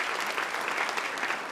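An audience applauds after a performance at a Canadian arts and culture talk event, a brief, even wash of many hands clapping at moderate distance.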